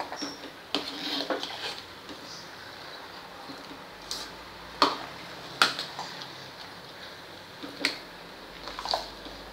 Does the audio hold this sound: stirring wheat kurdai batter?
yes